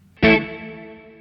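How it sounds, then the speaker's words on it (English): Single strum on a clean Fender Stratocaster, bridge pickup, through reverb from a VP4 pedal with no amp reverb: a sharp chord attack that rings out in a long, smooth decaying reverb tail, played alone. "I'm just running reverb via the VP4"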